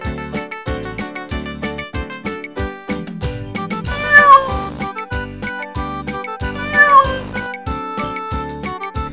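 A cartoon cat meows twice, loud and close, over a bright, bouncy melody played on plucked, toy-like notes.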